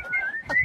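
A single person whistles a short, rising tune, close and clear, with faint background noise and no talking.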